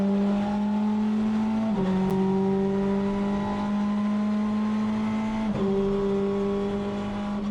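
A British touring car engine screams at high revs on a race track, pulling hard and loud with two quick gear changes breaking the steady climbing whine.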